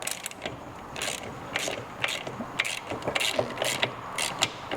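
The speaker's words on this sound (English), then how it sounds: "you could get a 17mm combination wrench on this inner lower shock eyelet right there" A wrench works a nylock nut on the lower shock eyelet of a Vespa GTS scooter, making a close, steady run of fast ratcheting clicks and metallic ticks with no voices.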